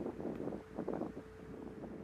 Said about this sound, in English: the video does not tell the story of how windy it is out there, John.